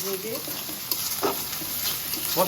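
Garlic frying in a pan for chicken bhuna gives a steady close sizzle, with a few scraping stirs of a spoon over the hiss and no talking.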